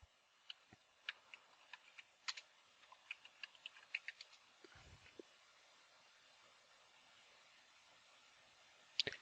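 Typing a search on a computer keyboard: sparse, faint key clicks in an irregular rhythm, a short cluster then a pause before a final couple of taps, close and quiet with no voices.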